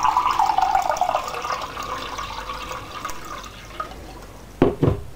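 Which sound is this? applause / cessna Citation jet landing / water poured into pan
water poured into pan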